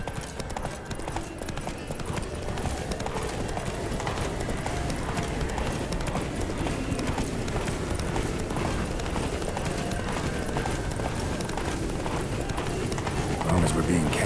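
Roach, a horse in The Witcher 3 video game, galloping with steady rapid hoofbeats throughout, close and continuous under voices talking.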